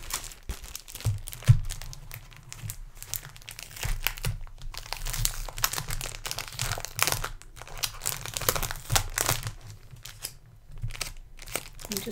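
Large sheets of card from a scrapbook album kit are handled and crinkled up close, giving a steady run of soft crackling, rustling and crunching with no talk.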